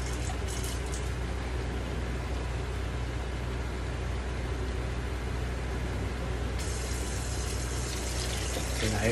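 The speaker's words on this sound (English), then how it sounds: "And I added 32 ounces of water." Water is poured into a pot of ground lean beef chili with canned tomatoes, a steady, continuous rushing pour close by, growing slightly louder toward the end.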